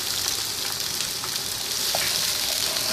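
Finely chopped onion and cumin fry in oil with a dense, even sizzle that holds steady and fairly loud throughout, with only faint scattered pops.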